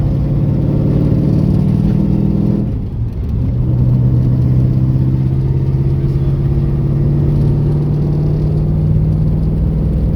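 A Chevrolet Camaro's built LT1 383 V8 engine runs close by with a deep, throaty exhaust, dipping briefly then settling into a steady, strong rumble with slight rises in pitch.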